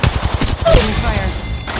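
Rapid automatic gunfire rattles out in a mobile battle royale shooter, Apex Legends Mobile, a dense burst of close, sharp shots followed by fainter trailing game effects and ringing tones.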